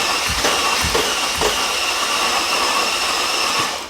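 Starter motor cranking a freshly rebuilt Mercedes AMG twin-turbo V12 without it firing, a few quick thumping turnovers early on, then a long, even mechanical whir and hiss that fades toward the end, with no voices.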